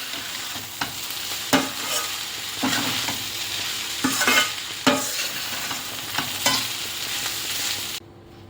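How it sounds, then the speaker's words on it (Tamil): Carrot rice stirred in a pan, a constant sizzle with repeated scraping strokes of the spoon at an irregular pace, close and fairly loud, ending in sudden quiet. "நல்லா ஒன்று போல் கிண்டி விட்டுக்கோங்க."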